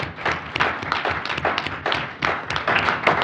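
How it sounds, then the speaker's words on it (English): Audience applause at a school board meeting, a dense, steady wash of many hands clapping throughout, moderately loud and close with no voices over it. "I think it's time for one more round of applause from us for everybody out in the audience"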